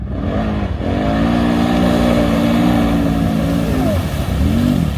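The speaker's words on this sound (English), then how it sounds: "Watching those cars one by one slam through the water was fucking fascinating." Mega trucks revving hard through a mud pit, engines roaring steadily and loud for the whole stretch with a rising pitch sweep near the end, water churning under the drone; no voices.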